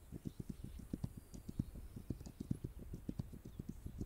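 A horse galloping in the video game This Land Is My Land, with rapid, even hoofbeats drumming steadily and fairly close, with no talking over them.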